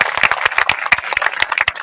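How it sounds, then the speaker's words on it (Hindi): Loud audience applause at a college youth-gathering speech, many hands clapping densely and continuously close by for the whole stretch. "तो आपने खुद के लिए तालियां बजा लो जोरदार तरीके से।"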